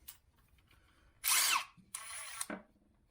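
A Hart 20V brushless 1/4 inch impact driver runs close in two short, loud bursts, the second ending in a lower-pitched tail, with quiet gaps around them.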